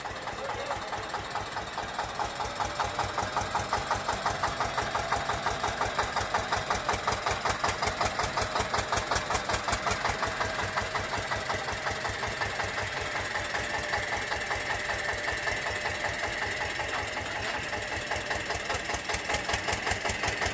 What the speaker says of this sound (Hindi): ट्रैक्टर निकल जाता है बाहर